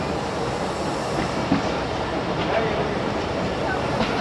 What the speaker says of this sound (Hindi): चलें जी, हमारी ट्रेन अब रवाना होते हुए।